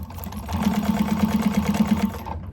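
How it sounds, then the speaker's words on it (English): A sewing machine stitches the short edge of a fabric candy bag at the seam allowance: a close, steady mechanical whir with a rapid even stitching rhythm that runs for about two seconds, then stops. "you're going to sew this at the seam allowance that she gives on that short edge"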